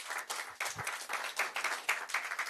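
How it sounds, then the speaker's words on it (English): An audience at a governor's meeting event claps for its sponsors in dense, pulsing bursts of close applause, with hardly any voice beneath it. "Let's give them another round of applause,"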